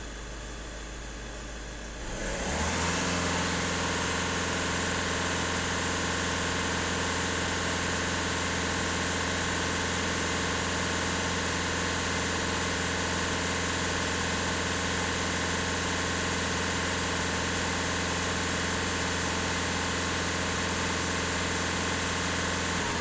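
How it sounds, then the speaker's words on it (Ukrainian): A VW Caddy 1.6 engine, due for DPF and EGR cleaning, idles quietly, then is revved up after about two seconds and held at a steady, loud, even drone for the rest of the clip. "Так, даю оберти, щоб побачити на обертах, який тиск показує."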